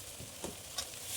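Okra being stirred in a pan with salt and turmeric gives a soft, steady sizzle broken by a few scraping stirs, close by and fairly quiet.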